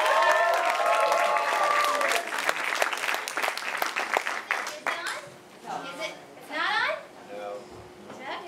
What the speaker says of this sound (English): Carisa Hendrix, everybody, a round of applause.